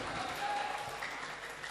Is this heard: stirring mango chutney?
no